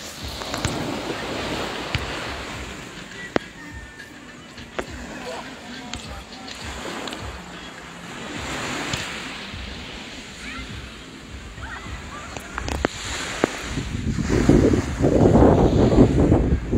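Calm sea water and gentle waves at Mero Beach, Dominica, a soft continuous wash with wind buffeting the microphone and swelling louder near the end, while people's voices murmur faintly in the background.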